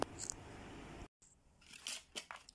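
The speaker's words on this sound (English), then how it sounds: "I'll go ahead now and cut off these rough edges" Scissors trimming the rough edges of a cut plastic bottle: a few short, crisp snips and crunches close by, separated by pauses, in an otherwise quiet setting.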